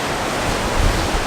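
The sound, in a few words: strong wind on microphone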